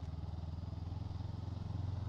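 Brixton Crossfire 500 motorcycle engine idling at low revs, a steady close, throbbing rumble with an even pulsing beat and no voices.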